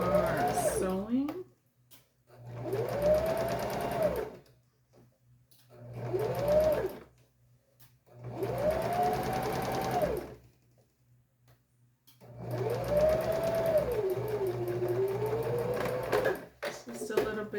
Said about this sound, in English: Be sure to follow the curvature of the princess seam while you are sewing.